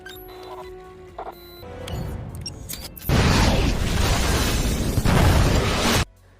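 A huge explosion bursts in a thriller film scene, set off by a computer trap. It comes after a quieter mechanical build-up, then a loud, dense roar holds for about three seconds before cutting off sharply.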